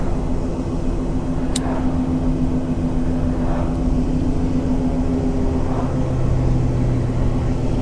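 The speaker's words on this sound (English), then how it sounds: "an airplane's flying over me. I'm like, what the hell? I don't see it, but I heard it. I heard the prop. It wasn't a jet." A propeller airplane passes overhead, unseen, a steady low droning hum that fills the background throughout and swells slightly toward the end.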